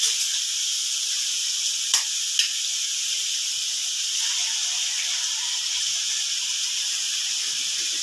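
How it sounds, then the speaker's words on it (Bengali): Egg frying with vegetables in a pan, a loud continuous sizzling hiss with a couple of sharp clicks early on. "এই এগ দিয়ে এটাকে একটু ভাজতে হবে"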